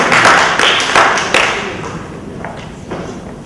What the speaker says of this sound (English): give a round of applause. Welcome him back to the podium.